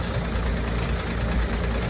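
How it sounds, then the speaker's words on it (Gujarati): A tractor engine runs steadily at night during groundnut harvesting in a field, a loud continuous mechanical drone with no talk. "આ ટ્રેક્ટરના અવાજથી ગાઈસ આપણે છે ને થોડો અવાજ આવે"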